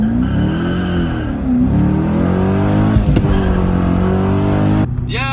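A sports car's engine roars loudly at a steady pitch that rises and falls a little as it accelerates hard from a launch, then cuts off sharply near the end.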